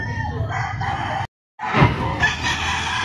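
Rooster crowing loud and close at a gamefowl seller's yard in Liliw, with one crow broken by a brief gap and more crowing and clucking after it.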